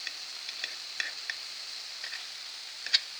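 Cabbage cutlets frying in a pan, a steady soft sizzle with scattered small pops and crackles, close and moderately quiet, no talking.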